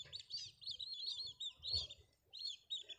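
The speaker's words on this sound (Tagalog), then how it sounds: "Daming ibon" Birds chirp and tweet in quick, repeated bursts, fairly close, with short pauses between calls and a faint low rumble underneath.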